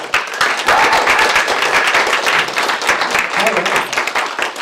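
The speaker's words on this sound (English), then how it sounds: "let's give Frank Wazeter a huge round of applause, guys" A huge round of applause for a coach taking the stage to give a talk: loud, dense clapping from a sizeable audience runs throughout, with a voice faintly audible beneath it.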